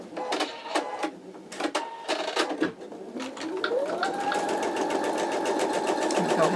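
An embroidery machine stitches out an in-the-hoop wallet, first in short bursts of rapid mechanical chatter, then settling into a steady, loud, continuous whirring hum of needle strokes with a rising motor tone.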